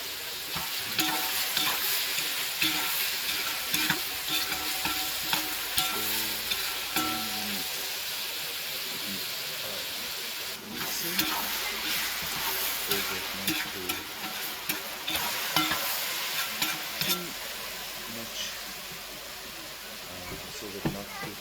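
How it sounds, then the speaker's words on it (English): Carrots frying and being stirred in a pan while cooking Tajik plov at home, with a steady loud sizzle and repeated scraping stirs throughout, and no talk. "So that not to fry the carrots too much."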